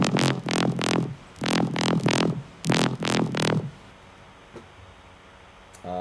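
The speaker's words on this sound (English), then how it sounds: "For the second drop, it's a very simple sound. It is literally just a saw wave with a" Three bursts of a buzzy, pulsing saw-wave synth bass with LFO wobble, each wobbling in rapid rhythmic throbs, followed by near silence with a faint tick.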